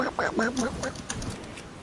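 A man imitates a duck's quacking with his voice, giving several short nasal quacks in a row up close, with a faint knock in the background.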